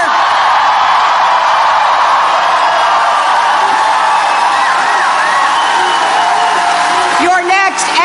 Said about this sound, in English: let's give a big round of applause to your next governor